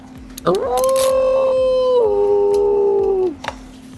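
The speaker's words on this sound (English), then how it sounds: "If my dogs start barking, there we go." A dog lets out one long, loud, nearby howl that rises, holds steady, then steps down before stopping, with a few yips at its start and end.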